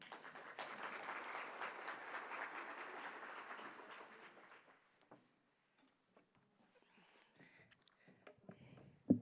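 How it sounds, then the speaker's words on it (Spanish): Applause from the audience at an international congress on electronic waste in Colombia, a dense burst of clapping for about four seconds that stops abruptly, followed by near silence with a few scattered sounds and a voice at the end. "Un aplauso para ella, por favor."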